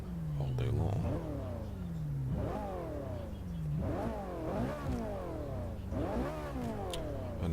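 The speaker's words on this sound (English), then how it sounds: "You can free rev all day long." A car engine in the Forza Motorsport 5 racing game free revs repeatedly, climbing sharply to a high whine and dropping back about four times in a steady rhythm, loud and close.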